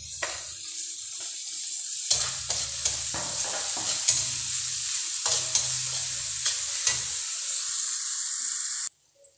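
Onion and tomato fry in a pan with a constant, loud sizzle while a utensil stirs and scrapes at intervals in rhythmic bursts, with no talk.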